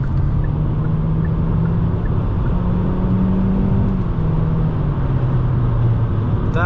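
A 2025 Hyundai Elantra Preferred pulls hard in sport mode on a highway, its engine note rising steadily under constant road and wind roar, heard from inside the cabin with no talk.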